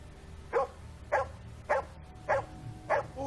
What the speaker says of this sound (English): his dog, which was normally pretty well behaved, started going crazy, barking, acting as if it was in distress